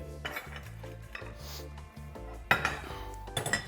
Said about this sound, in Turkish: Tavalarımı ocağa alıyorum sevgili dostlar